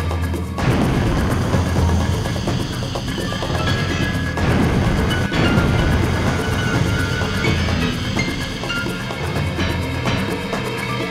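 A missile launch in Sonic Adventure DX, a dense roaring blast that starts abruptly and is sustained with heavy booming rumble and periodic crashing surges for the full duration.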